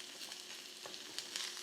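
Mushrooms sizzle in a pan on a small burner, a steady crackling hiss with quick pops and spits, fairly faint and close, with no talking.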